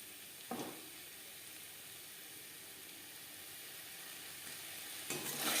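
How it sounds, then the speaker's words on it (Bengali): Cauliflower and spices frying in a pan, giving a steady soft sizzle and hiss throughout, with brief louder scraping stirs near the start and end; no one speaks. "ফুলকপির সাথে বেশ ভালো করে মিক্স করে দেবো"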